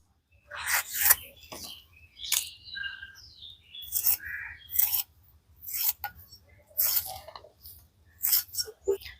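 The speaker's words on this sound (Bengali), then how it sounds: "এবার এগুলোকে কেটে নেবো" Knife cutting capsicum, green chillies, carrot, onion and tomato on a board, heard as irregular rasping, scraping strokes in short bursts with brief pauses, accompanied by faint chirping in the background.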